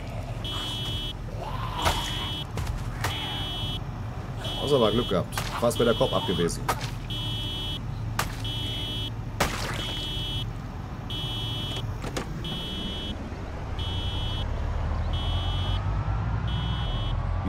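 A car alarm set off by zombies in the video game Project Zomboid, blaring in steady repeating pulses throughout, with someone speaking German over it.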